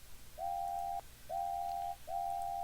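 A train whistle in a train simulation video game sounds three times before reversing, each a steady, clean, sustained tone lasting under a second, spaced evenly and clear over a quiet background.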